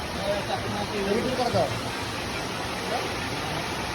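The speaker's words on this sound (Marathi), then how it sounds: "हे जे पाणी आहे हे सध्या आहे ते आपल्या छतावरचं पाणी आहे बघा" Steady rushing rainwater pours continuously off a roof into a rainwater harvesting system, a dense broadband splash like runoff falling from a height, with faint voices now and then underneath.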